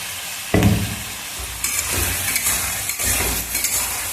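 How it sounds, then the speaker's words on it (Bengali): Spice paste frying in oil with lightly fried potatoes, capsicum and onion for a jackfruit curry, a steady loud sizzle broken by repeated scraping stirs of a spoon in the pan, with no talking. "দিয়ে ভালো মতন করে এটা কুক করতে হবে যতক্ষণ না মশলার কাঁচা গন্ধটা যাচ্ছে।"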